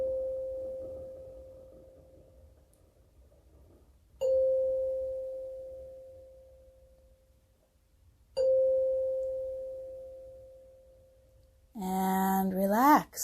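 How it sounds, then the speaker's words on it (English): A red hand chime tuned to C is struck three times, each clear ringing tone decaying slowly in a quiet room, and a brief rising electronic sound follows at the end. "What I'm using is a hand chime in the color of red, which is also the note of C."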